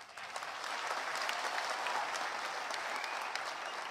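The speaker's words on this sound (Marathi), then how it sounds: "नको तुमच्या टाळ्या." Steady applause from an audience at a Marathi public speech, sustained and even clapping without voices.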